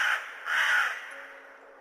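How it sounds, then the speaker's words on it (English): A crow caws twice overhead, moderately close with a harsh, ragged tone, the second call longer, then fading into quiet night air. "The crow circled above them several times, calling as it circled."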